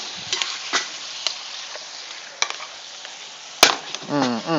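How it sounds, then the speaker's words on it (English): Shrimp frying in a pan give a steady hiss with scattered crackles and a few sharp utensil taps; near and moderately loud, with no talking. "we just sizzling up these shrimp right here,"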